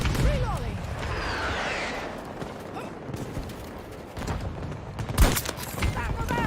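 Gunfire crackles in a Battlefield 2042 battle, scattered sharp shots and a loud blast near the end over a rumbling battlefield, with someone talking briefly.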